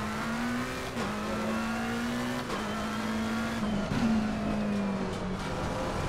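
A race car in the Assetto Corsa Competizione racing game holds a steady, droning engine note that dips and climbs with gear changes, heard alone and fairly quiet.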